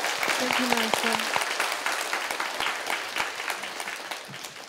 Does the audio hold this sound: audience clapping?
yes